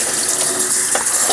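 Tap water runs in a steady, loud, close hiss as an onion is washed under it, with slight splashing changes as it is moved.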